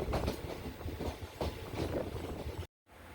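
Kollam–Alappuzha passenger train rolling on the rails as it comes into a station, a steady loud rumble with rhythmic clatter from the wheels, broken by a brief dropout near the end.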